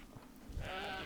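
Sheep bleating in World of Warcraft during an Alterac Valley battleground, a single drawn-out bleat that rises and holds with a wavering tone, close and clear against faint game background.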